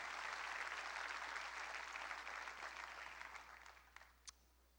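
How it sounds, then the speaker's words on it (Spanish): Church congregation applauding at a Spanish-language service, a dense, steady clapping that slowly fades over a few seconds, with a couple of sharper late claps standing out. "Dale más fuerte ese aplauso al Rey, por favor"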